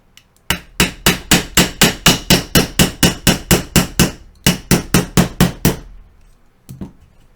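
Hammer tapping a punch to drive a pin out of an AR15 pistol chambered in 300 Blackout, about twenty sharp, evenly spaced metallic blows close up, a brief pause partway, then a final faint tap.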